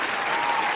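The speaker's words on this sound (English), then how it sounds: "just a round of applause to the two of you" A brief burst of audience applause, dense and steady clapping from a crowd that fills the whole short moment without any pause.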